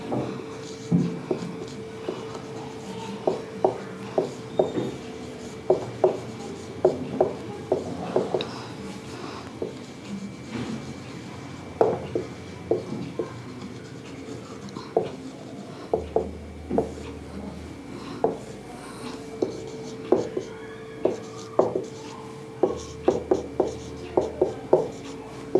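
Pen on paper writing out a small Python program by hand, with quiet scratching strokes and frequent short taps in an irregular rhythm, close and soft over a low background hum.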